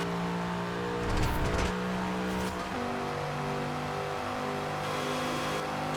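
A car in a Forza Horizon 4 race revs hard at top speed, its engine a loud, steady drone with shifting harmonic tones and a brief surge of extra roar partway through.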